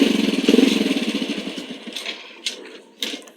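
A motorcycle engine putters at idle with a rapid pulsing rhythm that fades out, followed by a few faint clicks and knocks.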